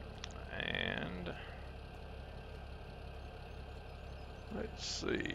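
A tractor engine idles in Farming Simulator 17 as a steady low mechanical drone. It continues evenly throughout, with a few brief higher sounds over it near the start and the end.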